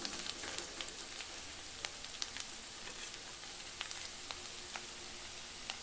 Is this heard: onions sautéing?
yes